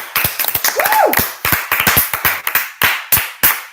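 Audience clapping at a high school varsity boys basketball awards night, in uneven bursts of sharp claps that swell and fade, with a brief whistle-like rising tone in the middle.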